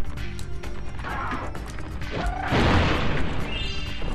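A bomb blows apart an object in the video game Spyro: Year of the Dragon, a loud broadband crash erupting midway over busy game music and effects, then lingering as a rough, rumbling decay.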